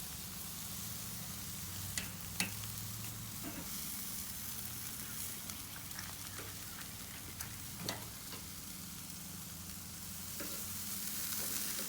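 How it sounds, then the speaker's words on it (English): Ribeye steaks sizzling as they cook, a steady faint frying crackle throughout with occasional sharper pops and a low background hum. "Now I actually love cooking my ribeyes the same way."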